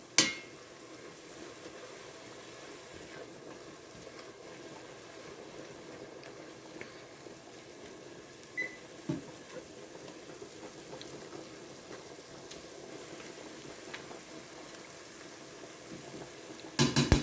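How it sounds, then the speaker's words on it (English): Vegetables sauteing in a pan for lasagna give a steady, quiet sizzle that runs evenly throughout, with an occasional faint tap or clink of a utensil, close by and without talk. "my vegetables are sauteing"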